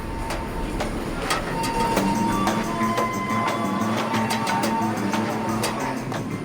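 A busy railway station in Bandung, West Java, packed with holiday passengers, carries a continuous rail-yard rumble with sharp metallic clicks and knocks scattered throughout.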